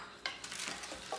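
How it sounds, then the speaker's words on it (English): Onions being stirred in a hot pan, with a light sizzle and brief scraping strokes of a utensil against the pan, close and fairly quiet. "if you'll put those onions in there, of course, we will let you stir that around"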